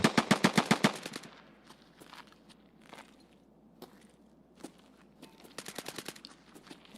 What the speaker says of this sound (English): Those SMG shots sound pretty close.